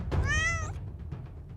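Cat meow sound effect from a furry visual novel: a single clear, drawn-out meow up close, followed by faint soft noises.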